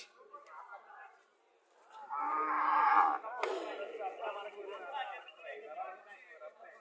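A dairy cow lows once, loud and close, at a Bangladeshi cattle market in Chauddagram, Comilla, where a bull calf is also for sale. Continuous bargaining voices and crowd chatter surround it.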